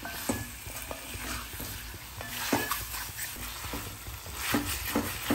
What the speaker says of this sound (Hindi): चिकन को अच्छे से फ्राई करने के बाद